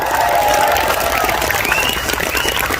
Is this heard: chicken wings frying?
no